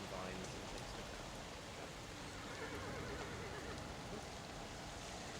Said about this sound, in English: I heard the horses from a mile away.